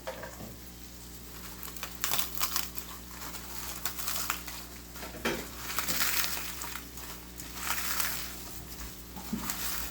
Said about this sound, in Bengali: দেখতেই পাচ্ছেন যে শুকনো মরিচগুলো কত সুন্দর ভাজা হয়েছে